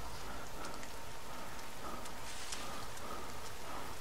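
Steady rain falls in the video game The Forest, a dense, even hiss of drops pattering continuously throughout with no voices.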